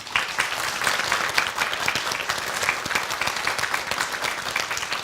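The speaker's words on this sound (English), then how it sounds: "Let's give our contenders a big round of applause first." A studio audience applauds the contenders after a debate on a survival competition show, with dense, steady clapping at close range that holds evenly throughout.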